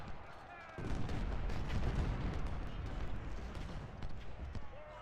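Cannon and artillery fire booms in an American Civil War battle game, with repeated heavy blasts and rumbling volleys layered over continuous battlefield noise, dense and loud after a quieter opening.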